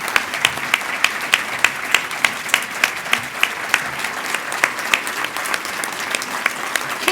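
Award winners at an innovators ceremony receive a round of applause, a steady crowd of clapping hands filling the room, loud and sustained throughout.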